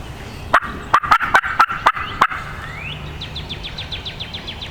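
A hen turkey calls in a rapid burst of sharp notes, followed by a quicker, fainter rattling series of notes, heard in an open outdoor space during a turkey hunt.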